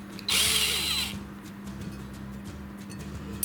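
A cordless screwdriver whirs briefly at high speed, twisting wire to secure the door of a homemade brick fireplace stove with a bread oven, then stops, leaving a steady low hum and light background noise.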